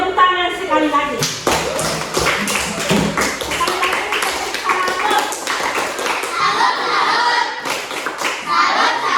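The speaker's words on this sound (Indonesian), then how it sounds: "Beri tepuk tangan sekali lagi." Children in a classroom applaud with a burst of clapping and tapping that carries on for several seconds, with a voice and some chatter mixed in.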